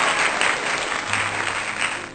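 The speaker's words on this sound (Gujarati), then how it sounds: "ફરી એકવાર જોરદાર તાળીઓ સાથે વિદ્યાર્થીઓને પ્રોત્સાહિત કરીએ." Audience applause at a school stage event honoring students after a musical performance, dense sustained clapping close and loud throughout, with no talking.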